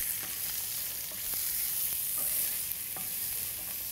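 Onions fry in a pan for baked meat tortillas, a steady close sizzle broken by several light scraping stirs of a utensil, with no talking.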